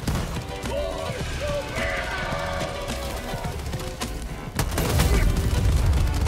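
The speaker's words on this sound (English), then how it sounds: "You just shot me." Gunfire and explosions in Helldivers 2 as a teammate is shot, dense overlapping bursts and crashes that swell louder toward the end, with faint voices underneath.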